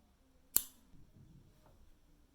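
Scissors snip through yarn while finishing a cross-stitched sweater: one crisp, close cut near the start, then near silence.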